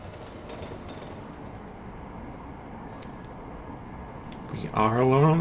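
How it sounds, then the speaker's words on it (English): Rumble of a train ride in the game Deus Ex: Mankind Divided, a steady low rolling drone with faint clatter, joined near the end by a louder voice speaking over it. "We are alone on the train."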